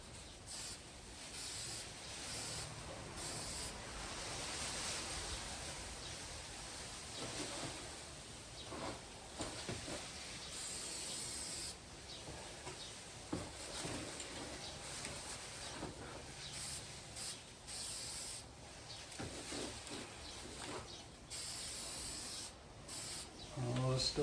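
Thick coating sprayed onto a motorcycle airbox, a continuous hissing spray with scuffing and rubbing noises running steadily through the whole stretch, close by and with no talk.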